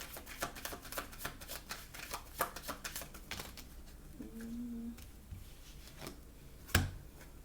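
Tarot cards are shuffled by hand in a quiet room, giving soft, rapid riffling and patting taps that come in uneven bursts, with one sharper knock near the end.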